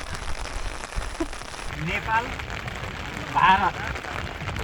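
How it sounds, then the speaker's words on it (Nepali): Steady rainfall patters across the whole span at Phalut on the Nepal-India border, with a few louder bursts of nearby noise rising above the wash partway through. "यता भारततिर पानी पर्दैछ अचम्म छ यो चाहिँ"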